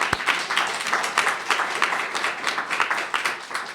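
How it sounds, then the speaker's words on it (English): An audience at a Virginia Bar Association Rule of Law Project discussion claps briskly for Andy and the staff, a short, busy burst of overlapping hand claps heard fairly close. "let's give a round of applause to Andy and the staff"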